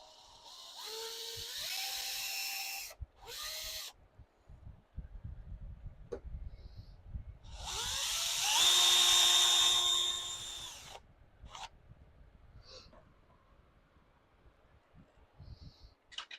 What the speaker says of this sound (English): If you're using a cordless drill like I'm having, I have it set on 1, and then the lowest speed setting